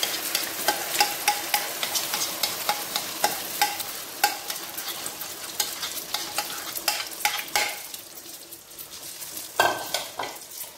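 Beaten egg mixture frying in hot oil as an omelette, a continuous close sizzle broken by frequent sharp scraping and stirring clicks of a utensil against the pan, with a louder scrape near the end.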